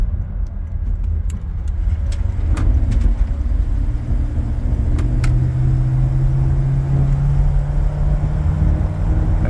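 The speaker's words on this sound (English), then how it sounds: "Accelerate up this hill a little bit." A 1993 Chevy Beauville van's engine pulls steadily uphill under acceleration, a continuous close rumble with a slowly rising drone and light rattles from inside the cabin.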